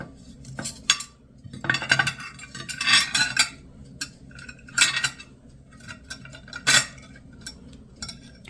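Metal cutlery such as a dinner fork, soup spoon and knife being handled and set out, with scattered clinks and rattling bursts between quiet gaps, close by with no talking.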